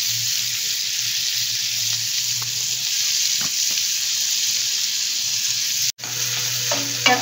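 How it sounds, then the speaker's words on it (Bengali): Shrimp frying in a pan, a steady loud broadband sizzle close up throughout, with a faint low hum and a brief dropout near the end before the sizzle resumes. "এরপরে আমি শ্রিম্পগুলো দিয়ে দিলাম।"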